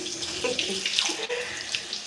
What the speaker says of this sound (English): we're adding water to rinse all the conditioner before we go in with this B-Girl gel